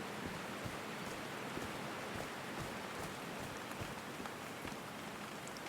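Steady rain pours down in the Call of the Sea game, a dense, even patter of drops on surfaces, fairly faint and continuous with no voices.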